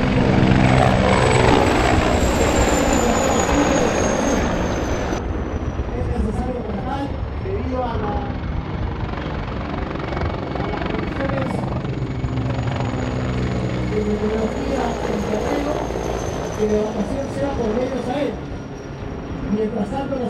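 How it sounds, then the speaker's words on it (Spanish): Military helicopters, announced as MiG-35s, fly over during an air parade, a steady loud rotor and engine roar that holds throughout with a faint descending whine, with a commentator's voice over it. "las aeronaves, los helicópteros MiG-35."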